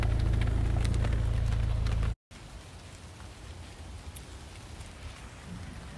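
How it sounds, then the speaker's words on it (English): Rain falls steadily during a carp fishing session, a loud low rumble at first, then after a brief dropout a softer, even wash of rainfall continues alone. "Well, it is raining, and it was raining pretty hard."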